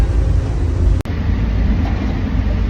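A train running in reverse near Terminal 3 in Toronto gives a steady, loud, low rumble heard from on board, with one brief cut in the sound about a second in.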